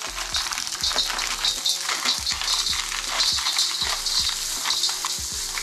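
Peas and carrots with aromatics sizzling in hot oil in a pan for breakfast fried rice, a steady crackling fry under repeated scraping strokes of a utensil stirring against the pan, close and loud.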